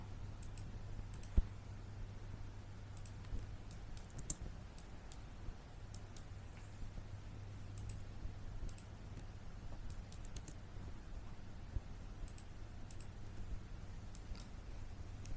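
Computer mouse clicks while working in CAD road-design software to lay out a curve, scattered sharp taps at irregular intervals over a steady low electrical hum, close and fairly quiet.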